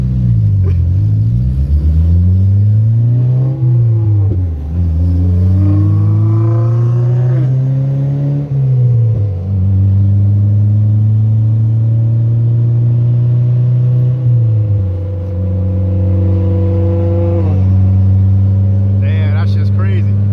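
A turbocharged Honda EG hatchback with an LS VTEC engine drives hard, its loud droning exhaust rising and falling through several pulls and gear changes, heard from inside the car throughout.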